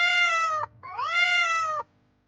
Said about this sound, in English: I am a farm cat. I say meow meow.